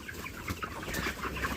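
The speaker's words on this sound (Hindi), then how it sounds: "जैसे ये है 1500 ग्राम की ये मुर्गी" Chickens, including a 1500-gram bird, cluck faintly and continuously inside a poultry shed, several birds murmuring together over a dense, noisy background.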